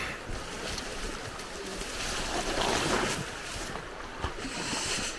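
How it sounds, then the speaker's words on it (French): A swollen mountain stream in Norway's Rondane rushes fast after a flood, roaring continuously and loudly nearby with gusts of wind buffeting the microphone. "Attends, regardez la vitesse du flot là."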